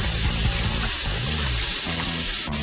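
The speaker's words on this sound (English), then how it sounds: "We wash it, and as soon as you put water, you'll see how much starchy" Tap water runs steadily over rice being rinsed in a bowl to wash off the starch, a continuous close splashing rush with a low hum underneath.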